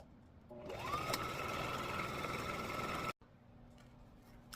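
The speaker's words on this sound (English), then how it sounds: "just fold it in half, pretty sides facing, and do a straight stitch down" A sewing machine runs a straight stitch down folded curtain strap fabric, one steady close-up whir that spins up, holds for about three seconds, then stops abruptly, followed by quieter room noise.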